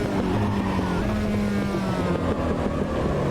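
MCR race cars at Velo Park in Automobilista 2 drone with a steady, loud engine note and a sustained rising pitch, continuous with no pauses.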